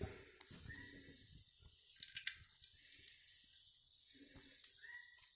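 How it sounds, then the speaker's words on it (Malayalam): Cooking oil trickles into a heated pan for a sardine fish curry, a faint, close, thin pouring hiss with small drips. "ചൂടായി വരുമ്പോൾ ഓയിൽ ഒഴിക്കുന്നു."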